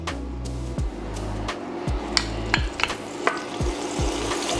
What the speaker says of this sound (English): I'm gonna go ahead and add my minced garlic